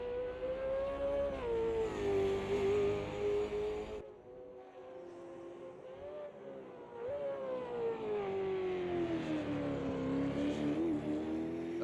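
A race car engine drones steadily at high revs while lapping the Bathurst circuit in qualifying, heard from on board, its pitch rising and falling through gear changes with a brief dip in loudness midway.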